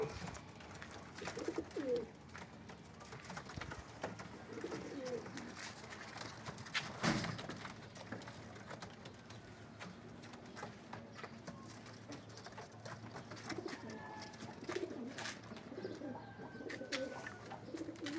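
Pigeons coo softly in a loft, low throaty calls repeating through a faint, steady background with occasional light knocks.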